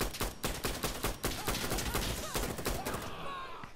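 Rapid bursts of gunfire from the video game Insurgency: Sandstorm, loud and close, with repeated sharp shots in an uneven rhythm that fade toward the end.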